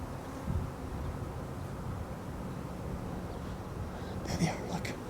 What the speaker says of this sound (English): I'm in a swarm of bees.